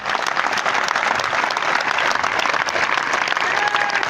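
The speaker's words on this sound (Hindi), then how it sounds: "तो दोस्तों एक बार मेरे बड़े भैया के लिए जोरदार तालियां हो जाए" An audience gives loud, enthusiastic applause for the speaker's elder brother seated among them, a dense, continuous roar of clapping that holds strong from start to finish.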